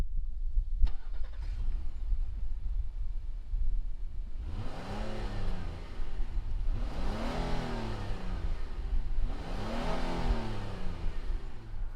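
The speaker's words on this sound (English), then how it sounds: "let's go ahead, fire it up," A 2019 Honda Passport Elite all-wheel-drive SUV engine is started, with a click and crank followed by the engine catching and then three rising revs that fall back to idle, heard fairly close without talking.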